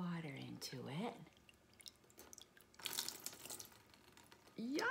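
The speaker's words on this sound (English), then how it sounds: "If we take this cup and we pour some water into it." Water is poured into a measuring cup, a brief, splashy trickle heard close between stretches of a person talking.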